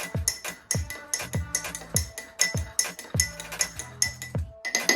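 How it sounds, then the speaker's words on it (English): A spoon clinks steadily against a pot while sugar is stirred for Jamaican hot chocolate, producing a regular series of bright, close metallic taps with no talk. "we're going to give the sugar a mix around"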